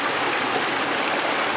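Rainwater pouring steadily through an opening, a dense, loud and unbroken rushing gush heard close up with no voices.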